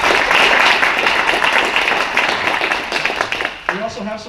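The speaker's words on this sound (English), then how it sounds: "So let's give them a round as well." Sustained applause from a luncheon audience, dense clapping that holds steady and then thins out toward the end as a voice starts up.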